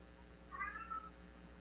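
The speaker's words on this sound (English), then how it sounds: "He's meowing at the door." A cat meows at a door, giving one drawn-out, wavering meow that rises and falls over a steady low indoor hum. It sounds at a moderate distance, with no one speaking.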